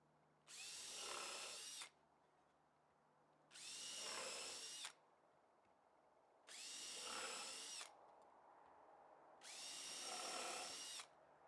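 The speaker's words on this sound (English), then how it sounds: "Drill your pilot holes and fill them with screws." Power drill boring pilot holes and driving screws into wood for I-beam sawhorses, four separate loud whirring bursts of about one to two seconds each, evenly spaced with quiet gaps between them.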